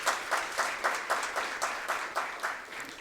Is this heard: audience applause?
yes